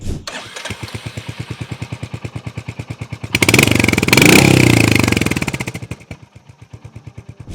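A 2025 Royal Enfield Hunter 350 motorcycle engine cranks and catches, then idles with a rhythmic, throaty exhaust thump, revving louder for a couple of seconds before settling back down.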